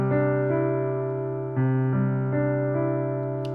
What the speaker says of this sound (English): and the left hand I just want you to play the root and the 5th,